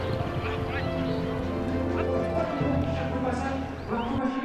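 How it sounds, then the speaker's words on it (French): Racehorses on the training tracks of the Maisons-Laffitte training centre at dawn, with soft hoofbeats and breathing, mostly beneath a narrating voice and music. "Dès l'aube, on peut entendre le souffle des chevaux de course arpentant avec grâce les pistes du centre d'entraînement."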